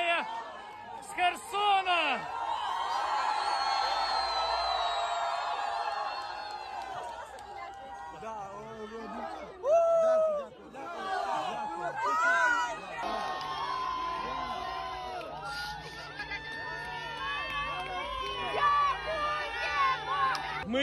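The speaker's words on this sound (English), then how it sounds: "In the city's Freedom Square, where soldiers were applauded by welcoming crowds, the Ukrainian flag was once more flying" Welcoming crowds in Freedom Square, Kherson, Ukraine, cheer and shout in a swelling mass of voices, with whoops and excited calls rising and falling, loud at times and fading between bursts, with people talking close by.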